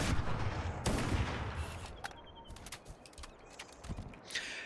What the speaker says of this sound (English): Sniper feels very punchy.